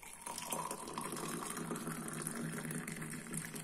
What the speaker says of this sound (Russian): Заливаю крутым кипятком